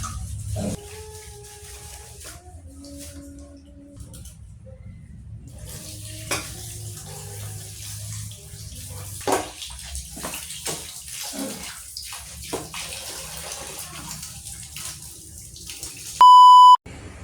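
Water runs and splashes steadily while chicken is handled and rinsed, with a short electronic beep at the very end.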